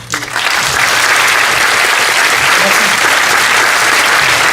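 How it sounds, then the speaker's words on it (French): Conference audience at a manga and anime panel bursting into applause, a loud dense wash of clapping that swells in quickly after a brief start and carries on strongly to the end. "Et je voudrais qu'on applaudisse quelqu'un."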